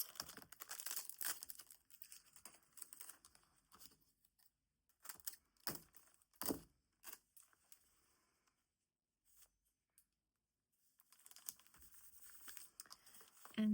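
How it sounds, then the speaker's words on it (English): Tape being handled and crinkled while decluttering a planner: close, dry crackling and rustling in several bursts, with quiet gaps and a short silence in the middle. "Look at all this tape I have to"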